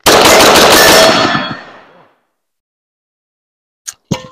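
Rapid gunfire with a Rise Armament 434 performance trigger in a drill: a fast, loud string of shots lasting about a second and a half, then a decaying echo, silence and two more sharp bangs.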